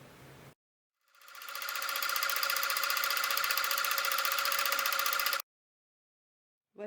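A sewing machine stitches a seam with purple thread, starting after a pause and running in a steady fast buzzing whir for about four seconds before stopping abruptly.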